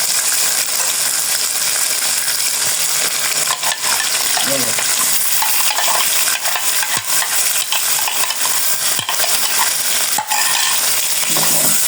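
Onions frying with garlic and ginger in a pot for chicken biryani, a loud continuous sizzle with scraping stirs and occasional metallic clinks of a spoon, close up with no talk.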